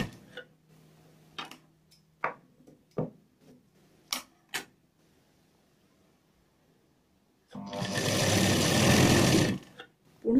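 Sewing machine stitching a fabric strap for a newborn baby cap, a steady two-second whir after scattered handling clicks and taps, close and loud with no talk over it.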